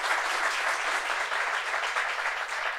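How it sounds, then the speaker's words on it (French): Students at a polytechnic institute gathering break into applause, a thick, continuous wash of many hands clapping without a pause or any voice on top. "Applaudissez-vous, s'il vous plaît."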